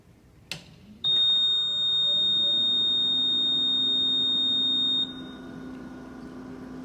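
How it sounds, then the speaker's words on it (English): A VisionAire 5 oxygen concentrator gives its continuous start-up beep, a steady high electronic tone lasting about four seconds after a click, then a low motor hum continues alone. "It is normal for the machine to beep for 4 seconds continuously when first turned on."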